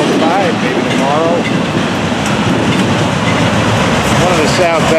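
A Florida East Coast freight train with empty auto racks and empty freight cars rolls past close by, a loud continuous rumble and clatter of wheels with faint squeals, as wind buffets the microphone.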